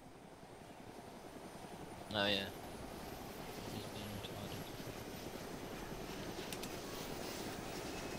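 A helicopter in the video game Arma 2 DayZ drones with a continuous rotor wash that builds slightly. A brief spoken remark cuts in near the start.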